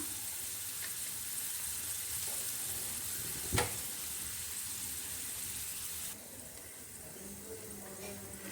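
Raisins frying in a pan with almonds, a faint steady sizzle that stays even throughout, broken once by a short sharp knock and dropping slightly quieter near the end.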